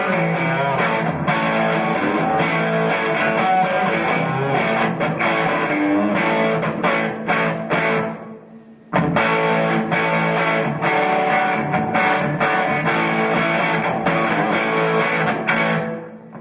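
Overdriven electric guitar run through a TC Electronic Hall of Fame pedal set to gate reverb, playing loud crunchy rhythm chords that cut off abruptly into near silence around the eighth second before resuming at full volume.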